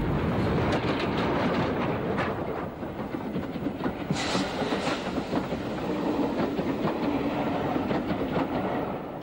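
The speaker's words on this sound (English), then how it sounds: "Merchant Navy 35021 New Zealand Line arrives with a train for Waterloo." A Merchant Navy class steam locomotive, 35021 New Zealand Line, arrives with a train for Waterloo, a steady rolling rumble with rhythmic clickety-clack of wheels over rail joints and a brief hiss.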